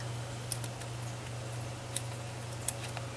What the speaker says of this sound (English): Then I took my scissors and I cut